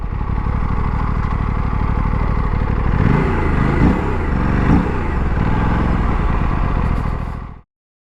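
Aprilia RS457 parallel twin motorcycle engine running, a loud, close, throbbing rumble with a brief rise and fall in revs midway before cutting off abruptly near the end.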